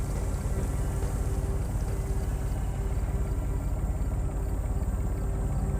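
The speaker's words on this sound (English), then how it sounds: "A diesel pump chugging away." A diesel pump chugs steadily at an excavation site in the game Secret Files 3, a low, continuous engine rumble with a fast regular pulse, close and unchanging throughout with no voices.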